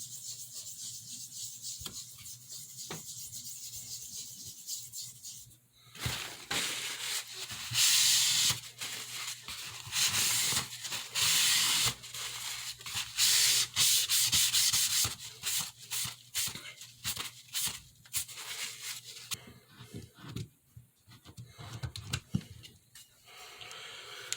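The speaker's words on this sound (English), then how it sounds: "We're going to clean the stone as usual." A kitchen knife sharpening stone is scrubbed clean by hand, giving a steady close gritty rubbing with bursts of louder rasping strokes and brief pauses, no voices.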